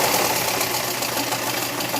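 An old black sewing machine stitches thin fabric with a continuous, even, close mechanical whir and fast rattling hum that holds steady throughout.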